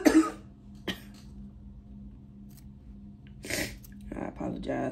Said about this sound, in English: I apologize for the coughing and the sniffling